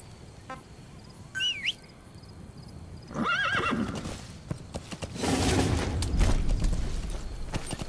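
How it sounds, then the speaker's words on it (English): A horse in the Metal Gear Solid 5: The Phantom Pain video game lets out two sharp whinnies, followed by a rising rumble of galloping hooves and clattering movement that stays loud to the end. "Planning to walk the whole wilderness on foot? Use your horse."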